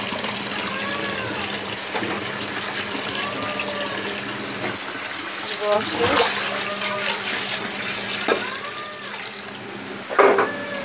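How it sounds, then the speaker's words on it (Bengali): Eggplants and other vegetables being rinsed under running tap water, a steady close splashing gush with brief louder splashes as they are handled, while a voice talks faintly in the background. "এবার এই যে বেগুন আর ইয়েগুলোও ধুয়ে নেব।"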